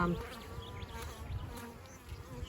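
Honeybees buzzing steadily and close during a top bar hive inspection in Australia, a dense droning hum with individual bees flying past.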